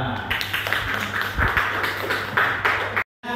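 A burst of clapping from a class after a group presentation, steady and dense for about three seconds before cutting off abruptly.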